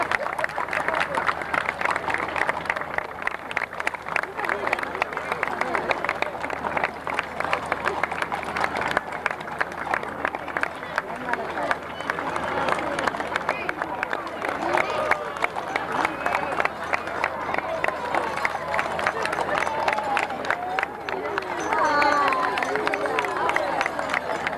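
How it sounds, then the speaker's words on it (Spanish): Crowd applause along a town festival parade route in Argentina, a steady patter of many hands clapping at moderate distance, with voices and crowd murmur running underneath throughout. "Para él también un fuerte aplauso."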